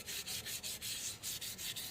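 Rhythmic back-and-forth strokes of sandpaper lightly rubbing a Honda Click scooter crankcase, about five per second, soft and steady with no talking.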